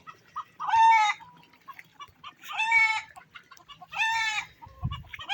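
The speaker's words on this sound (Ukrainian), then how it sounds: "Кричать кури" Three loud, drawn-out hen squawks come one after another at roughly even intervals, with softer clucks and rustling in between, close by.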